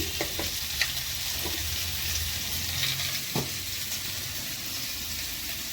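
Ginger paste fries in a hot pan with a steady, dense sizzle and a few soft stirring scrapes, close and continuous with no talking.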